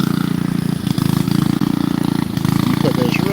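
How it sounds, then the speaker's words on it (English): A machine engine running low on gas idles loudly and close, a steady pulsing low rumble with a slight uneven lope that continues throughout. "I think I need to turn the gas on for that machine, as you can hear how it's idling."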